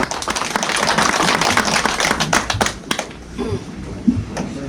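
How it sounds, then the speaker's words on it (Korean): Applause from attendees at a Korean bereaved families' joint meeting, dense clapping that stays fairly loud for about three seconds and then thins into scattered claps. "박수 부탁드립니다"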